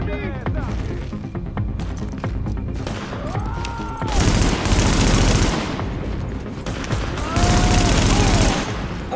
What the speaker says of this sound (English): Who the heck is shooting?